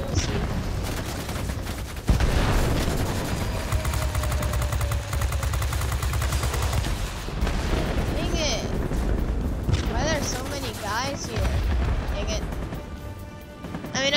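Bombing explosions and gunfire in the Ar-65 video game rumble continuously in a dense, loud barrage with a sharp burst near the start, while a player talks over much of it.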